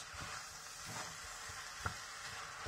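Minced meat frying with onion and flour in a pan, giving a faint, steady sizzle with soft stirring scrapes and one sharp tap near the end.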